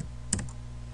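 Brief keystrokes on a computer keyboard, a quick pair of close clicks near the start followed by quiet room hum.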